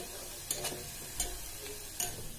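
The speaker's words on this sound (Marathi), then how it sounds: "तर हा बघा इथे कांदा फ्राय करायला टाकलेला आहे आपण" Finely chopped onion fries in oil in a pan while cooking Kolhapuri misal, a continuous close sizzle broken by a few sharp clicks of stirring.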